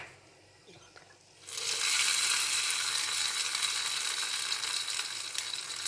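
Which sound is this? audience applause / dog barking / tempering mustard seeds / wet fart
tempering mustard seeds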